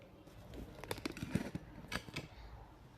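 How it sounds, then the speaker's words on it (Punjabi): Scissors snip through an old worn sock, a cluster of close, soft clipping cuts in quick succession over quiet room tone, with no talking. "ਆ ਸੌਕਸ ਨੂੰ ਇੱਥੋਂ ਕੱਟ ਦਾਂਗੇ"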